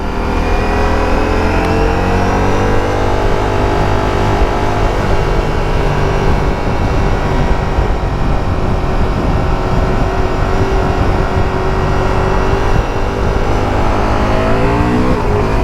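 A Ducati Streetfighter V4S motorcycle engine drones loud and steady while riding, its pitch rising and falling through revs under heavy wind rush, with no voices over the continuous roar.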